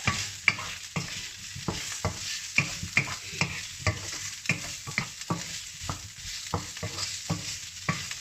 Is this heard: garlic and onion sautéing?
yes